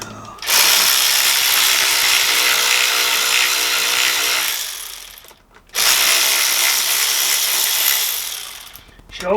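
A power tool whirs in two long bursts, loud and close, spinning up and winding down with a short pause between, during work on a long-idle Yamaha.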